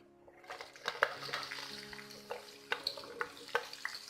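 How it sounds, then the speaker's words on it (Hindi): Okra drops into hot oil in a pan for masala bhindi, crackling and sizzling steadily up close, with scattered spatters and clinks of a utensil stirring. "अब मैं इसमें अपनी भिंडियाँ डाल दूंगी।"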